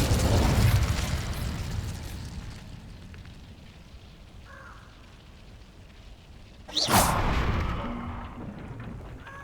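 Incendio fire spell cast in Hogwarts Legacy, heard as a sudden loud whooshing burst about two-thirds through, set against a steady low game ambience with a faint tone earlier.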